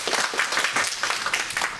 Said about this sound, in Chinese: 请掌声欢迎两位